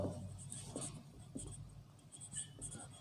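Chalk or marker writing on a board during a Bangla language lesson: short scratchy strokes in irregular bursts, fairly close and moderately quiet, with faint room noise between strokes.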